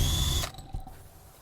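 A handheld power drill spinning a paint flinger disc whirs loudly, then cuts off and winds down into quiet with a few small clicks and rattles.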